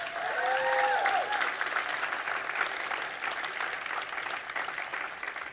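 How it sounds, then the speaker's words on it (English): An audience at a Human Rights Campaign event applauds the event staff, with sustained, fairly close clapping that peaks early and then holds steady. "can we just give a big round of applause for the HRC staff who put this all together?"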